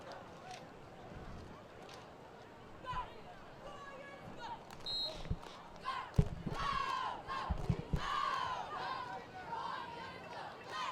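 Crowd and cheering squad at an 8th grade middle school football game between Winton Woods and Pleasant Run: rhythmic group chants and shouts rise over steady crowd murmur, with several sharp peaks toward the end and a commentator talking throughout.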